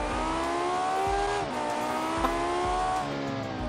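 A V10 car in the Automation driving game revs hard through its gears, the engine note climbing in pitch, dropping at each shift around the middle and end, then rising again, loud and close with no talk.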